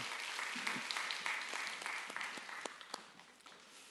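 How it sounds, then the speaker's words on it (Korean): A church congregation at a Friday prayer service applauding after a special song, a steady wash of many hands clapping that thins and fades toward the end. "우리 다시 한 번 더 박수 부탁드립니다"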